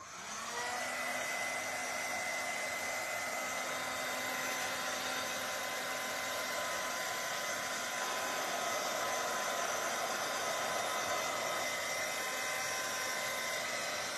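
A hair dryer blows steadily and loudly from close by for the whole stretch, drying painted clay stencil artwork of flowers, its whirring drone unbroken and with no talk over it.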